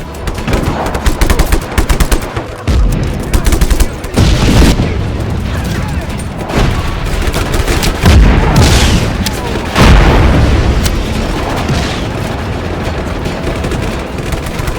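Loud, chaotic combat in Just Cause 3: rapid gunfire bursts and heavy booming cannon blasts, repeating throughout with brief pauses.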